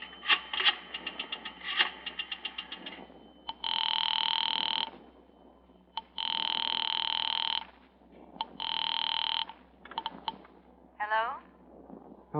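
An old house telephone rings in a radio mystery drama, starting with bursts of a rattling bell and then long sustained electric rings separated by pauses, with a few short clicks near the end.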